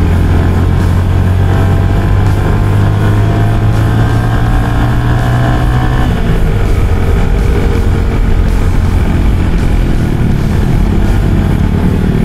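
Motorcycles from a riding club, a mixed community group, climbing toward a hilltop temple, their engines droning steadily and loudly at close range, with the pitch dropping partway through as throttles shift.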